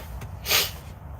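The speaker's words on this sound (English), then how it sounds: "My nose I keep getting the sniffles." A single brief nasal sniffle from a trucker in his cab, a short soft burst standing out over a low steady hum of background noise.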